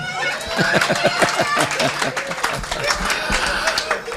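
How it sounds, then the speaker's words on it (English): Audience clapping at a presentation on critical thinking, a mix of scattered claps and a rhythmic burst mixed with crowd murmur and voices talking over it. "If you want to clap, clap better."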